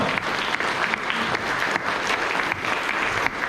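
Steady applause from an audience at a Hmong tribute gathering in Paris, welcoming a delegation from French Guiana; dense, even clapping throughout with no pauses.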